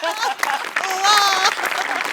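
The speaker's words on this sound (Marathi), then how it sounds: "तर या जादूसाठी एकदा तुझ्यासाठी टाळ्या" Audience applause at a Marathi comedy stage show, a dense clapping wash that swells for about two seconds under musical tones and voices.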